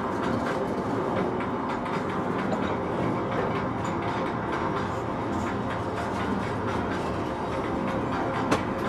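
A 75 cm narrow-gauge heritage train in Latvia rolls steadily along its rails, giving a dense, continuous rattle and clickety-clack heard close and fairly loud, with no voices.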